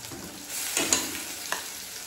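Ground masala paste sizzles and spits in hot oil for a spicy mutton curry, with steady frying hiss and a few sharp stirring scrapes close by.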